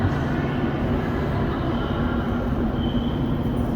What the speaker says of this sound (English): So yeah, pretty decent metro ride.